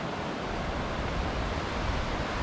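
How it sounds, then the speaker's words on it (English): Whitewater of the New River rushes in the gorge beyond the trees, a steady, broad hiss of flowing rapids that stays even and unbroken throughout. "we do have whitewater"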